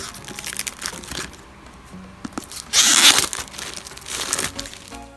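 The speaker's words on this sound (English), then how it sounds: "I'm now gonna remove the plastic and we're gonna throw this away" Plastic wrap being pulled off a Beats Solo 3 Club Edition headphone box, close crinkling and tearing with a loud crackling rip midway and more rustling after, no talk.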